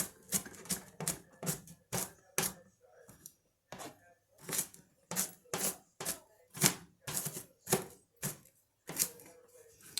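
A small knife chops half an onion into smaller pieces on a cutting board, giving a close, quick series of sharp, evenly spaced taps that stop briefly and then resume.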